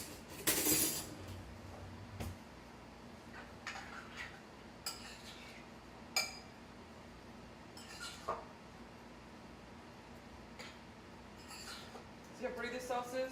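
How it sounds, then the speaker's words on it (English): Sauce is stirred in a bowl with a utensil, giving faint, scattered scrapes and light clinks against the bowl over a quiet background. "now we're going to give everything a good stir"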